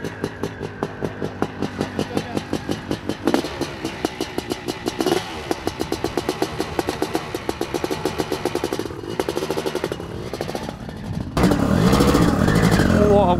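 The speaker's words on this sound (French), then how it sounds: "La moto, en fait, elle part toute seule." A Maico 700 motorcycle pulls away hard, its big single-cylinder engine thumping in a fast steady rhythm that climbs through the revs, close and loud, before a burst of rushing noise at the end.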